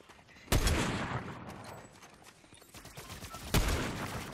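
Two sharp gunshot bursts in a Fortnite match, one near the start and another about three seconds later, each trailing off over a faint background.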